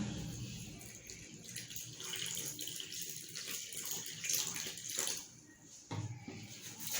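Water being poured into a bowl of dough mixture with sugar for khobizat chehma, a steady close splashing stream that runs for several seconds and fades briefly near the end.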